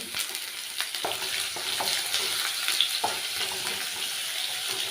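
Green chilies and chopped garlic frying in oil for a mango pickle, a steady broad sizzle with a few sharp clinks and scrapes of stirring scattered through, close and fairly loud, no voices.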